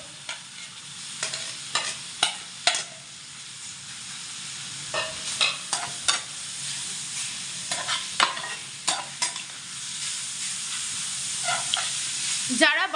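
Grated carrot sizzles in a hot pan while a spoon stirs it, sharp scraping strokes repeating every second or so over a steady frying hiss.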